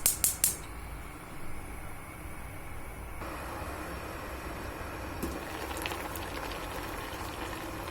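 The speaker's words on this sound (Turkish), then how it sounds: "Az bir miktar su ile pişirmeye bırakacağım." A steady low bubbling simmer of fruit cooking in a little water on a stove, faint and continuous, with a few brief clinks at the start.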